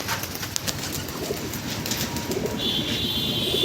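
A pigeon coos softly in a loft of fancy and flying breeds, low rounded calls repeating under a steady background hum, with a faint high tone entering near the end.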